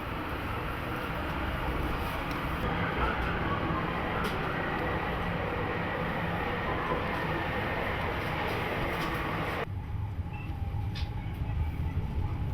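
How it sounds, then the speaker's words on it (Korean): A small five-car mountain train in Innsbruck, Austria runs continuously with a steady rumbling roar of wheels and motor, constant in level and shifting tone near the end. "산악 열차인 노르트케텐바는 5칸짜리 작은 열차지만 힘은 아주 좋다."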